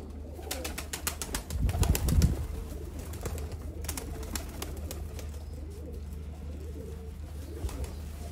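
Pigeons kept in a loft coo in low, soft throaty calls, with a brief flurry of wing flapping early on and faint chirps over a constant background hum.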